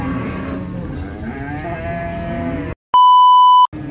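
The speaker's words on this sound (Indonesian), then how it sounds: "kita ada lagi di Pasar Sapi Nyetes Ponorogo, Jawa Timur" Cattle market at Jetis, Ponorogo, East Java: a busy murmur of crowd and livestock with occasional moos, then a loud steady electronic beep cuts across near the end.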